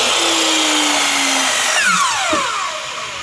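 A power saw cuts a miter on a wooden rail for a raised panel door, roaring loud and close with a steady whine, then its pitch sweeps down as the blade spins down.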